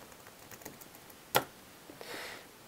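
A few computer keyboard keystrokes with one sharp, clear click standing out among quieter taps, close and sparse against a quiet room, with no voices.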